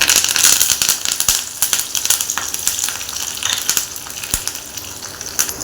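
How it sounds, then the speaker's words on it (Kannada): Mustard seeds, cumin, garlic, dried red chilli pieces and curry leaves crackle and sizzle in hot oil for a home-cooked tempering, a dense spattering hiss with sharp pops, loud and close, with no talking. "ಒಗ್ಗರಣೆಗೆ ಈಗ ಸಾಸಿ ಜೀರಿಗೆ ಚಟಪಟ ಅಂತಿದೆಯಲ್ಲ"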